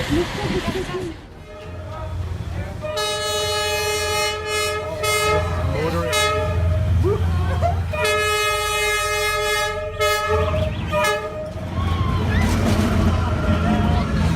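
A train passes inches from a café in Vietnam with two long, loud horn blasts over a heavy, close rumble of rolling wheels, and voices can be heard beneath it.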